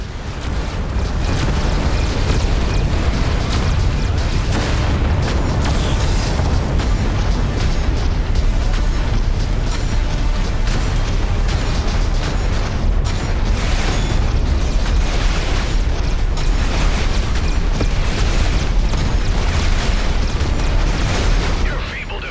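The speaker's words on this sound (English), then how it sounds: "there is a barrage of torpedoes incoming" Dense, loud barrage of torpedo explosions and booming impacts in a space battle in the video game Everspace 2, continuous rumbling blasts layered with pops and mechanical effects for over twenty seconds.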